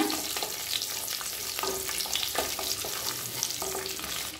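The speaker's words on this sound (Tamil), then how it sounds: "அடுத்தது வெங்காயத்தை சேர்த்துக்கலாம். வெங்காயத்தை இது மாதிரி கட் பண்ணி சேர்த்துக்கோங்க." Chopped onions fry in oil in a kadai with cumin and a bay leaf, a loud dense crackling sizzle close by with repeated spatula scrapes and stirring knocks throughout.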